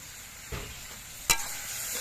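Cabbage with sugar stirred in a hot pan: a low sizzle with two distinct scraping stirs, the second sharper and louder, close up and with no talking.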